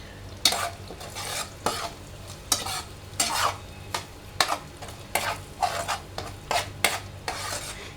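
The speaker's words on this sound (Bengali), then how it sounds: "তো বন্ধুরা আমি ডিম দুটো দিয়ে দিয়েছি, পেঁয়াজটা হয়ে গেছে।" Two eggs frying with cooked onions in a pan: a soft sizzle runs underneath while a spatula scrapes and stirs in quick, repeated strokes at an uneven rhythm, close up and with no speech.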